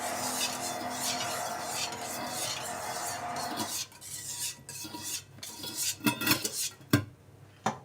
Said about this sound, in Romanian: Incorporăm bine bicarbonatul cu uleiul